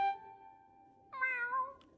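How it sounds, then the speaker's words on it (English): In the SpongeBob: Rehydrated video game, Gary the snail gives a soft meow, a faint drawn-out tone followed by a brighter rising-and-falling cat-like meow near the end. "Meow."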